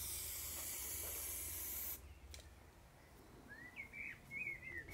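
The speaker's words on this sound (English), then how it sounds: "when you spray the panel" A spray paint canister hisses steadily and loudly as it coats a panel outdoors, a continuous aerosol rush for about two seconds that then stops, leaving quiet background where faint birds chirp.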